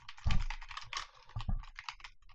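Computer keyboard typing while writing game code for a Unity top-down shooter, a close, busy flurry of uneven keystrokes with a few louder clacks and no talk.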